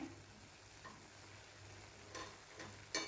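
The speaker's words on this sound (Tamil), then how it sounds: "நம்ம இந்த எண்ணெயிலேயே இந்த சுண்டைக்காயை நல்லா வதக்கி எடுத்துக்கலாம்" Soft, steady sizzling of turkey berries frying in oil with a few light clicks of stirring, no voices.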